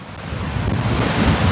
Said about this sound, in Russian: надеюсь, не слышно, какой ветер сильный